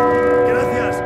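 Church bell in the Uncharted 4 video game: a loud, sustained metallic toll ringing out alone for about a second with rich lingering overtones.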